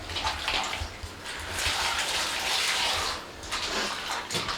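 Tap water running steadily into a sink while food is rinsed for slicing in a home kitchen, a continuous splashing gush with small surges, close by and without talk.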